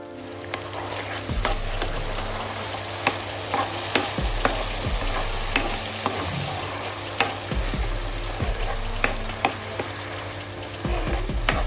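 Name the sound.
frying ground onion paste in hot oil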